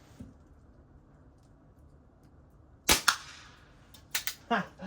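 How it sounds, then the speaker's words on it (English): A 1981 Crosman Model 1 pump air rifle fires after six pumps: a loud, sharp close crack with a quick follow-up snap, then a few lighter mechanical clacks after a quiet start. "Let's try 6 pumps and see how it does."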